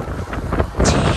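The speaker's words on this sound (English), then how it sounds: "It's pretty windy today." Strong wind buffets an outdoor microphone on a day of roughly 25 km/h winds before a bike race in Serbia, with loud, low rumbling gusts throughout the short stretch.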